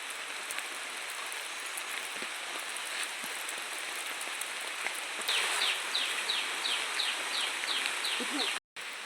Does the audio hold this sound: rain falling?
yes